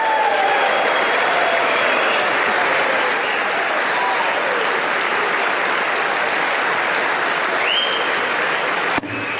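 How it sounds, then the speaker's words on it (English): Sustained applause from a large crowd of Republicans fills the room, steady and dense throughout, with a brief break near the end. "Republicans applauding."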